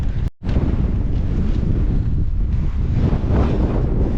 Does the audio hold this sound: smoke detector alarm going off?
no